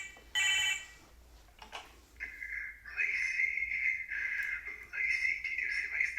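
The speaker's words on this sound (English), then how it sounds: "Oh, she's getting a phone call." In-game phone ringing for an incoming call, an electronic tone that warbles in repeated bursts at moderate level over a low background hum.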